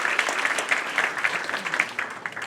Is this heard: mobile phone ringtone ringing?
no